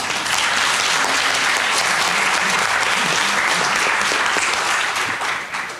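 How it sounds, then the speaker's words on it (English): An audience at an academic conference on wealth concentration and democracy applauds a panel, producing loud, dense clapping that continues steadily for nearly six seconds and fades slightly at the end. A few murmured voices sit under it. "So can we just clap and thank the panel?"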